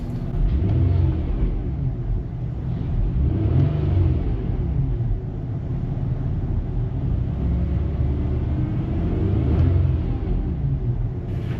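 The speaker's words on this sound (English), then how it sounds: "Revving the engine repeatedly," A car engine idles with a steady low rumble while it is revved repeatedly, the swells in loudness coming and going near the mic with no voices over it.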